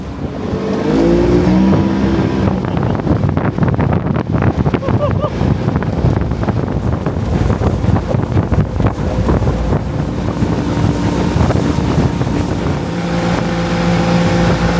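A loud, steady two-stroke outboard motor drones continuously with buzzing roar, heavy wind buffeting the microphone throughout.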